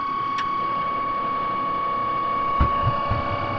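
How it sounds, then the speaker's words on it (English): A van's heater blower motor starts up, a steady tonal hum with harmonics running throughout, plus a few short clicks and knocks near the end. The motor is worn and due for replacement. "That blower motor needs to be replaced."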